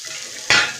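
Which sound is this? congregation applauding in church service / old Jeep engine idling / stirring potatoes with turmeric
stirring potatoes with turmeric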